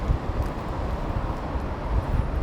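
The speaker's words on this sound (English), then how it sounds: "It's windy." Strong gusty wind in Chicago buffets the microphone with loud, continuous low rumbling and roaring, steady throughout with no voices.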